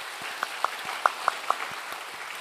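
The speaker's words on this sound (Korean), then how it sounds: "박수로 한번 격려하겠습니다" Church congregation applauding a combined choir during a Sunday worship service: light, scattered claps at a low level, fairly distant, lasting only a couple of seconds.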